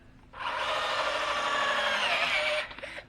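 A power drill bores into wood while a raised garden bed is built, one sustained whining run of about two seconds, close and fairly loud, starting abruptly and winding down at the end.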